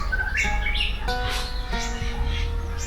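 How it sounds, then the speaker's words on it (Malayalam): Many birds calling together outdoors in rural Thailand, a steady chorus of chirps, squawks and whistled notes layered over constant background hiss, close and fairly loud with no talking. "ഇവിടെ മൊത്തം പക്ഷികളൊക്കെ ഇങ്ങനെ, ഒരുപാട് ബേർഡ്സിൻ്റെ ഒക്കെ സൗണ്ട് കേൾക്കാൻ പറ്റും"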